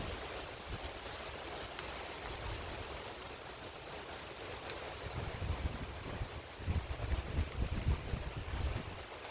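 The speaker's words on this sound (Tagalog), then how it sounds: "Pabugso-bugso ang hangin." Gusty typhoon wind during Typhoon Kristine in Bohol, a continuous broad roar rushing past the microphone that swells stronger toward the end.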